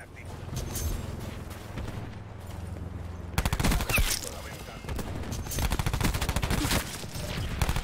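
Gunfire from the Black Ops 4 video game on the Nuketown map: dense, rapid bursts of shots land in quick succession, loud and continuous, building in intensity toward the end.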